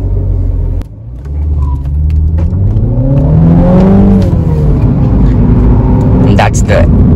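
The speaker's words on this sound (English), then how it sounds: "That's the immense thrust that you get when you just launch the car like that using launch control" A 2021 Mini Cooper S 4-door launches hard with launch control. The engine note drops briefly, then revs up loudly and climbs steadily in pitch as the car accelerates, close and dominant.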